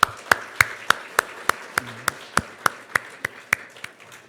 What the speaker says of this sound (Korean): 우리 하나님께 감사와 영광의 박수 한번 올려드리겠습니다